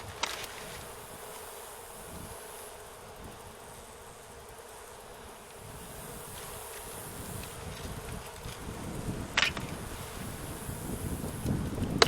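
Honeybees buzz steadily at a small, diminished hive, a continuous drone with light wind noise against the microphone and a couple of brief knocks near the end.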